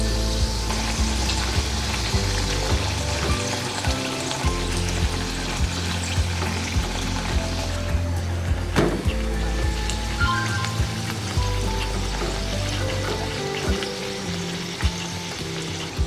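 Bhatura dough frying in a shallow pool of oil, giving a steady, dense sizzle and crackle that runs the whole time, with one sharper spattering burst midway and no talking.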